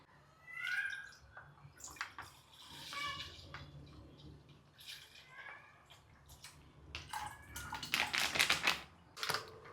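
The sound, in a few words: pouring water into packet milk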